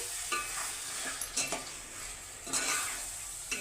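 A spatula stirs masala-coated mutton in a hot pan over a steady frying sizzle, with a few soft scrapes and clinks against the metal, close and continuous.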